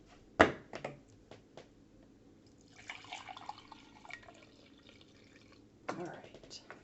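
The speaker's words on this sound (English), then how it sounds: "we're going to put some fresh water in here" Fresh water poured into a container while cleaning brushes, with a sharp splash at the start, a few drips, then intermittent close trickling and a second burst of pouring, soft and intimate with quiet speech between.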